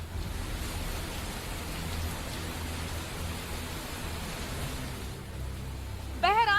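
Heavy rain pouring in Mumbai, a dense steady hiss with a low rumble, held at constant strength; a brief warbling tone cuts in near the end.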